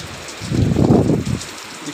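Wind-driven rain near Gangotri in the mountains swells into a gusty rushing patter over about a second, then eases back to a softer steady hiss.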